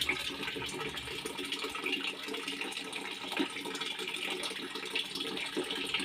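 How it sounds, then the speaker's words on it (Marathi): Thin stream of tap water trickling into a container, a continuous close, even splashing wash with small fluctuations throughout. "असं बारीक पाणी भरावं लागते मला"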